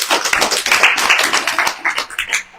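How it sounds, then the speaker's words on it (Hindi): Audience clapping for the brothers at a Christmas program, a dense burst of applause from many hands with uneven, scattered claps. "भाइयों के लिए जोरदार तालियां"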